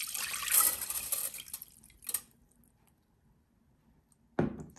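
Water drains and splashes from washed rice through a filter in a kitchen, a brief pouring rush followed by a few faint drips and a final splash.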